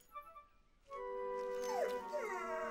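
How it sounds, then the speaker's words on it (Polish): A cartoon rescue dog gives a rising, wavering howl with yips, loud and close, sustained for about two seconds after a quiet start. "To tylko pies. Pies ratownik."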